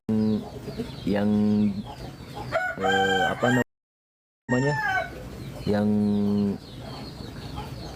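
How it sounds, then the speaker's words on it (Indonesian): A black chicken among backyard farm fowl gives a drawn-out crowing call and a series of loud, harmonic clucks and squawks, with a person speaking briefly in between. "ini nih ayam yang hitam ini yang biasa duduk di sini"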